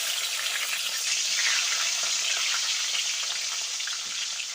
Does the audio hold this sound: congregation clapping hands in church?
no